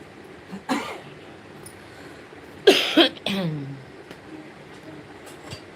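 A person coughs in a home setting, a few separate harsh bursts spaced across the moment, the loudest a double cough near the middle, with faint background noise between.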